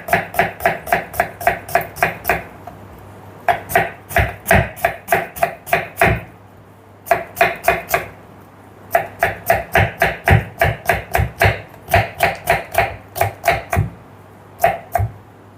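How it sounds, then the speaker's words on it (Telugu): A medium-sized onion chopped finely with a knife on a board, rapid crisp taps in fast bursts of about a dozen strokes separated by short pauses, close and loud with no talking. "ఇప్పుడు ఒక మీడియం సైజు ఉల్లిపాయని వీలైనంత సన్నగా కట్"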